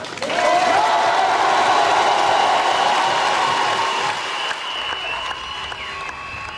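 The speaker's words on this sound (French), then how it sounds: "Pour eux, ayons une salve d'applaudissements" Sustained applause from a football documentary audience honouring traveling RC Lens supporters, a dense loud wash of clapping that holds steady before easing slightly toward the end.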